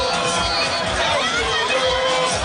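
A large crowd of NRM supporters at an outdoor rally in Moroto, Karamoja, roaring with dense cheering and chatter, loud and sustained throughout.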